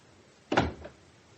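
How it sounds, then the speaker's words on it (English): A door shut in an old radio police drama: a single solid thud with a short rattling tail, close and clear in an otherwise quiet scene. "We'll shut the door."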